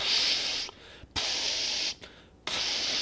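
A voice mimics flamethrowers spraying fire along walls and ceilings, making three loud breathy hissing bursts separated by brief near-silent gaps.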